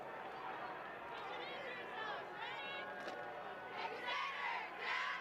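Cheerleaders yell chants and a crowd cheers at a high school football game, the shouting rising in bursts toward the end over a busy background of stadium noise.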